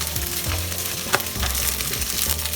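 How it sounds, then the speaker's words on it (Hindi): Mixed vegetables, potato and carrot among them, fry and sizzle in a pan with a steady crackle and occasional stirring scrapes, close and fairly loud, with no talking. "अभी हमें 3-4 मिनट वेजिटेबल्स फ्राई करना है।"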